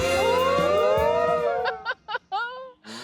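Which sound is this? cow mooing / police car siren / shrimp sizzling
cow mooing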